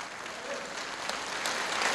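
Audience at a church seminar in Korea bursts into dense, sustained clapping that stays fairly loud and steady throughout, with crowd noise mixed in and no clear speech over it.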